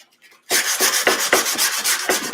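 Sandpaper rubbed by hand on a drop-in box frame in quick, even back-and-forth strokes, loud and close, starting abruptly after a brief quiet moment.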